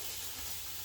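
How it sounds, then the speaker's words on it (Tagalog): Vegetables for fried rice hit a hot pan, giving a short burst of steady hissing sizzle with no voices. "ang gagawin ko po is ilagay ko muna yung gulay."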